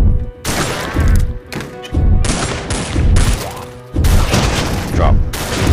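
Repeated heavy blasts from shotguns in the Dead Ahead Zombie Warfare game, loud booming thuds in irregular bursts amid dense in-game combat noise.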